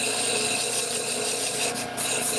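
A skew chisel shaves a spinning wooden top on a lathe, giving a steady close rasping, scraping hiss that runs continuously with only a brief dip near the end.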